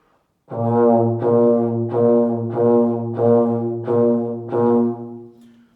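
A euphonium plays a series of separately tongued notes, about six short attacks in a steady rhythm, close and full-toned.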